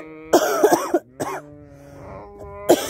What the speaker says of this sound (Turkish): Samanlıkta çok durunca şey oluyor. Öksürük tutuyor.